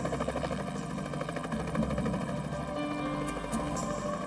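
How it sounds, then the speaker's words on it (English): A search helicopter's rotor chops and engine drone continuously as it flies grid patterns overhead, fairly close and steady, with no voices. "And helicopters flew grid patterns overhead."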